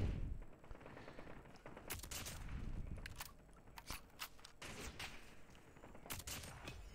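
Long-range gunfire comes from a video game match played with a Shorty NA45 and a crossbow. Repeated sharp shots and bursts crack at irregular intervals over a steady background rumble.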